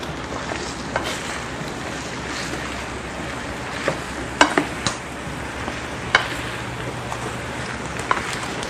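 Squash being stirred in a pan, a continuous close scraping and sizzling churn broken by several sharp clacks of the utensil against the pan, with no voices during the stirring.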